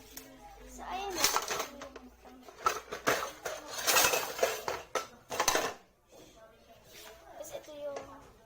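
Plates and dishes clink and clatter in bursts as they are gathered and put away during a cleanup, with a person talking over the handling throughout.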